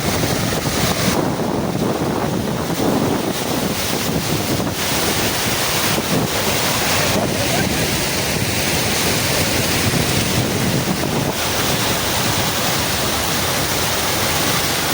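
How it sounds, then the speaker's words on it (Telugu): Water from a waterfall at a family weekend spot pours down with force, giving a steady, loud, broadband rush and roar that holds level throughout, with some wind buffeting on the microphone and no talk. "వాటర్ మాత్రం చూడండి ఎంత ఉధృతంగా పడుతుంది అనేది"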